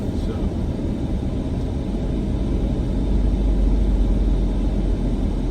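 A car drives through the Lake Emerald property in Oakland Park, Florida, with a steady low road and engine rumble inside the cabin, growing slightly louder and deeper toward the end, with no talk.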